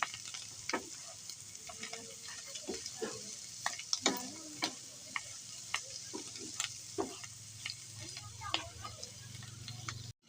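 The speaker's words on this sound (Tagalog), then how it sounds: "Ulit yung aking lutuan. Halo-halo lang." A spoon stirs Filipino bopis in a cooking pan under a soft frying sizzle, with repeated clinking scrapes against the metal at an irregular, unhurried pace, close and moderately quiet.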